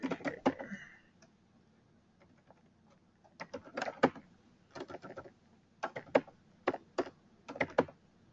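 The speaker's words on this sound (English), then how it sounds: "Let me type it here" Someone types on a computer keyboard during an online meeting, producing clusters of sharp close key clicks in short bursts, with a quiet gap before the typing resumes in a steady uneven rhythm.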